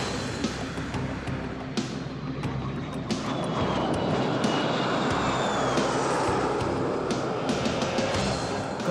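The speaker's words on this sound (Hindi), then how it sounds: "फ्लाई पास्ट में वायुसेना के 29 लड़ाकू विमान, 8 मालवाहक विमान, 13 हेलीकॉप्टर और एक धरोहर विमान सहित कुल 51 एयरक्राफ्ट दिखाएंगे आकाश में साहसिक करतब।" Indian Air Force fighter jets, transport planes and helicopters flying past during the 75th Republic Day parade over Kartavya Path, a steady loud broad engine roar with passing whooshes throughout.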